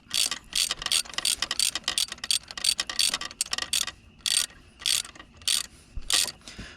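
A ratchet snugs a spark plug on a 2006 Dodge Ram. Crisp, close clicks come in quick bursts of short, repeated strokes with brief pauses between them.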